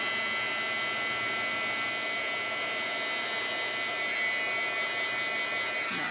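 A heat tool for embossing blows with a steady, even whir and hum at close range, running without a break as it warms embossed paper.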